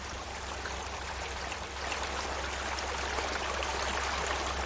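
A river at Birch Creek, Oregon rushes steadily, a constant broadband wash of flowing water with a low hum underneath and no voices.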